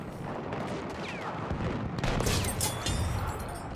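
Grenade explosions and gunfire in the Battlefield 1 video game: a muffled rumbling blast that gives way to a sharp, close burst of cracking shots and a second crack, loud against a steady battlefield din.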